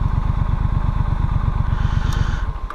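A Triumph Street Scrambler motorcycle engine runs steadily at a near, loud idle-like pulse throughout, its rhythmic low thumping continuous and fading slightly at the end.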